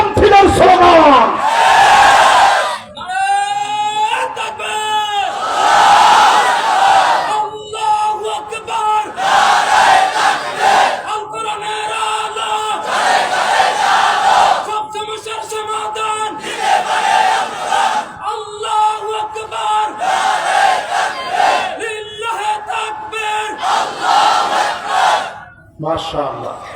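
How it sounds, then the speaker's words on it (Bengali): A large crowd at an Islamic religious gathering chants takbir slogans in loud, rhythmic call-and-response bursts, a lead voice shouting and the mass of voices answering in repeated waves. "এই মাহফিল যেমন তাকবীরের স্লোগানে ঠান্ডা হয়েছে"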